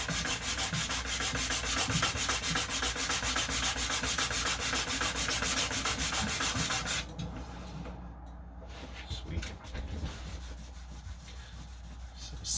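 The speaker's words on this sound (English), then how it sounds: "Sandpaper, and then we'll hit the reeded side up" Sandpaper rubs against a metal coin ring in quick, close scratchy strokes for several seconds, then the sanding drops away to a quieter, sparser rubbing.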